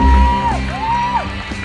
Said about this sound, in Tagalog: mas tumindi ang tilian